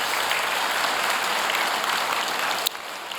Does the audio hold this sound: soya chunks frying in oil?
no